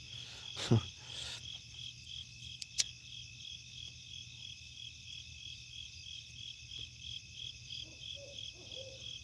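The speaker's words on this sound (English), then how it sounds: "Hear that owl?" An owl hoots softly at night in the distance, a few low calls heard under a steady chorus of crickets at a campsite, with occasional faint rustles.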